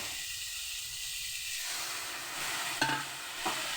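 Fried cauliflower and vegetables with a paste of mustard, cumin, ginger, chilli and turmeric sizzling in a pan, a continuous hiss that swells as the paste goes in, with a couple of stirring knocks.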